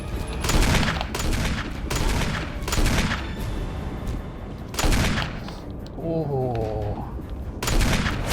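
Barry fires a rapid string of gunshots in the Resident Evil HD Remake video game, loud volleys bursting in clusters across the stretch while a player speaks over them.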